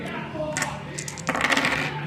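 Dice rattle and clatter across a table during a game of Three Little Pigs, a quick run of hard, bright clicks that grows busier toward the end.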